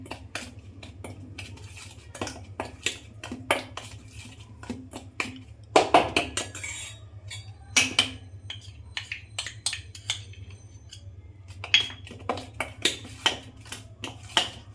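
A spoon scrapes and clinks steadily against a metal pan while roasted gram is stirred with ghee, the sharp taps close and rhythmic over a low hum.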